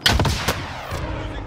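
Rapid bursts of gunfire in Call of Duty: Modern Warfare, a few sharp shots up front then a dense rattling tail, sounding like video game combat.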